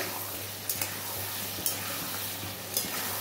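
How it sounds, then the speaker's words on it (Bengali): Mushrooms sautéing in their own released water hiss steadily in a pan, with a few sharp scrapes of a spoon stirring them at intervals, alone and close without any talking. "এই দেখো বন্ধুরা, মাশরুম থেকে কত জল বেরিয়েছে। এখনো কষানো আমার হচ্ছে।"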